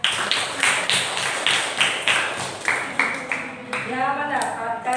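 Children clapping together in a classroom, a burst of applause with rhythmic bright claps that fades toward the end, with some voices mixed in.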